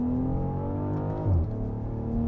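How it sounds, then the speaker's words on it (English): The engine of a luxury SUV, a 2019 BMW X7, hums steadily under load in second gear, then dips briefly and swells on the upshift, heard from inside the cabin at moderate loudness. "Ga-broom on the upshift"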